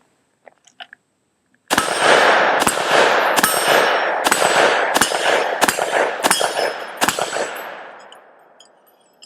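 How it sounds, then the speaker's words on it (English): A Palmetto State Armory JAKL 13.7-inch 5.56 rifle with skeleton stock fires seven shots at steel targets about 15 yards away, each loud crack ringing off the metal in a steady, evenly spaced string. "let's have some fun and shoot some steel here. We're about 15 yards away"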